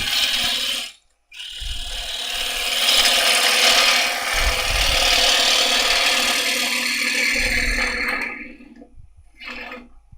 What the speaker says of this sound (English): get my cut, and then I'm gently feeding the tool in. Nice sharp gouge, so you don't need to force it.